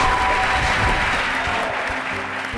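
A hall audience at a university SMART Challenge applauds a university team, giving a loud, continuous, even roar of clapping that holds steady for the whole stretch.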